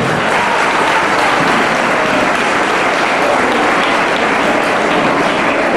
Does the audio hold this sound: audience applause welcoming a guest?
yes